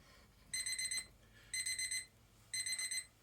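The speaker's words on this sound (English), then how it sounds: "Let's turn that alarm off." A digital alarm clock beeps in three evenly spaced bursts of rapid high-pitched pulses, each lasting about half a second, clear and close against a quiet room hum.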